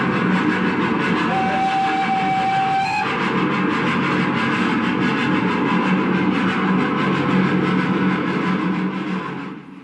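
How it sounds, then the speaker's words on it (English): A 1960s recording of a train passing through Glenfield Tunnel gives a loud, continuous rumble and clatter that echoes inside the bore, with a brief whistle early on, before fading at the end. "this is an actual recording of a train passing through this tunnel made in the 1960s."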